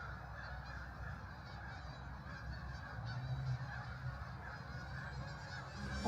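A flock of geese honking at a distance outdoors, a steady faint chorus of overlapping calls with no one speaking.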